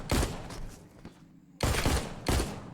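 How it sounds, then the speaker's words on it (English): Gunfire from shooting walkers at a range in the VR game TWD: Onslaught, with three loud bursts of shots, two of them close together near the end, separated by quieter gaps. "Keep shooting the walkers in the range."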